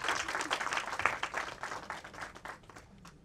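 Applause at a Bhojpuri film mahurat ceremony as the movie's two producers are welcomed on stage, a dense burst of many hands clapping that swells early and then gradually thins and fades out.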